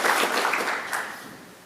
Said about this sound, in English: round of applause for them first